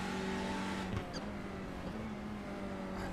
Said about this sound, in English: I'm just loving listening to the noises of these TCR cars